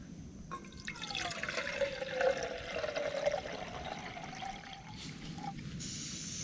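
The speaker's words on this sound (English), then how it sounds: "So I'm going to put the water in the jet ball, get it boiled up" Water trickles and pours softly into a Jetboil backpacking stove pot, a faint gurgling stream rising in pitch for a few seconds before ending with a small splash, close by and quiet.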